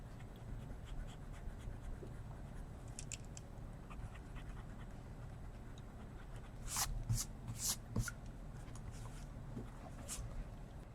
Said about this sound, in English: Now let's erase our pencil lines once your ink dries.